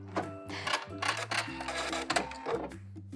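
A sewing machine back stitches knit fabric at the end of a seam for a DIY bralette, quick loud bursts of mechanical stitching with short pauses between runs, close and alone.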